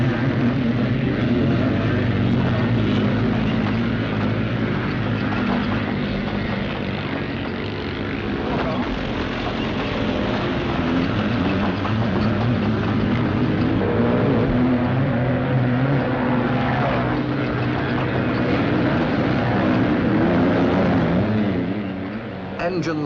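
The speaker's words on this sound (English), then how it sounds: "Engines scream as they roar up the banks." Scrambling motorcycle engines roar and whine continuously over a rough cross-country course in Britain, with loud, droning revs swelling and fading as the machines climb steep banks.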